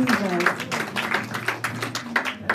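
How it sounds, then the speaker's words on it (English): A church congregation claps along in a steady rhythm during a Sunday service, the claps mixed under loud singing and talking voices. "You guys ready to sing, dance, clap your hands? Yes. Come on. Clap your hands for the Lord."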